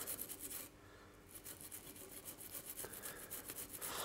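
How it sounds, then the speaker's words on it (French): A toothbrush scrubs a PlayStation 5 circuit board in quick, steady back-and-forth rasping strokes, faint and close, with a brief pause near the start. "Alors, un petit coup de brosse à dents."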